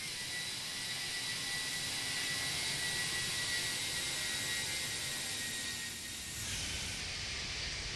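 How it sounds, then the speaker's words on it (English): A Toliss A319 jet passing in a flight simulator video game, a steady broadband engine roar with a high whine, holding level before shifting and fading slightly near the end. "Let's get a flyby. Watch your ears."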